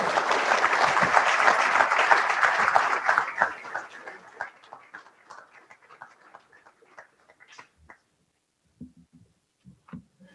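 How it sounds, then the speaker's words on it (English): An audience claps loudly for a bishop arriving to give a presentation, the dense applause thinning into scattered individual claps that fade out, leaving a few isolated claps at the end. "a big round of applause to welcome His Excellency Bishop Janak"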